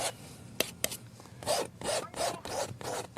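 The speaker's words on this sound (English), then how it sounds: "You can probably hear I'm really scraping that canvas hard." Repeated rough scraping strokes of paint on canvas, close and fairly loud, dragging across a textured surface in a steady back-and-forth rhythm after a couple of sharp taps.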